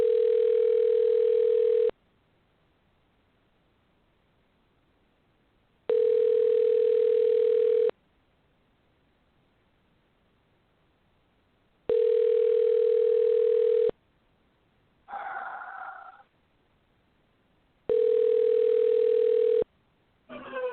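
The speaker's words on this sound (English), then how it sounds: "Come on, Ann, pick up the phone" A telephone ringback tone sounds while a call waits to be answered: long tone bursts about two seconds each, separated by roughly four-second silences, repeating four times, with a brief muffled noise between the last two rings.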